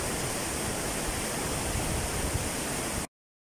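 A river waterfall on the Agres river pours in a steady, dense rush of white water, loud and unbroken until it cuts off abruptly into silence just before the end.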